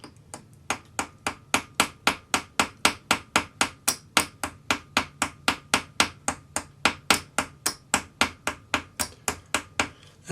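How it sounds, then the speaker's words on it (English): A small chasing hammer strikes a metal pendant bail resting on a steel bench block, giving a steady run of about thirty crisp, ringing taps at close range with no talk. "I'm using a small chasing hammer."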